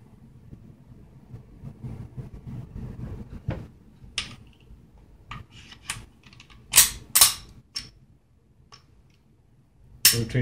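Parts of a Springfield XD-M .45 ACP pistol click and snap during reassembly, a series of sharp close metallic clicks at irregular intervals over a low background, with a few louder snaps toward the end.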